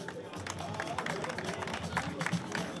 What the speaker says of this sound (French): que je vous prie de bien vouloir applaudir